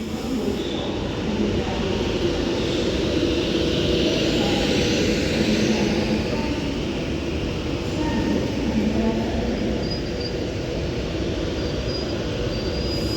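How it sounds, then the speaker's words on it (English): Avanti West Coast Class 390 Pendolino electric train arriving at Stoke-On-Trent station on the West Coast Main Line, a loud continuous rumble and rolling roar close by, with faint brake squeals near the end. "this Avanti West Coast Class 390 Pendolino now arrives into Stoke-On-Trent"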